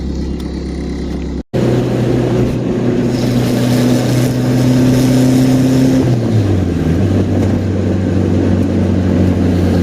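A turbocharged Honda Integra with rolling anti-lag, its engine loud and close, holding steady tones before a brief cut, then droning on with pitch steps while the car drives.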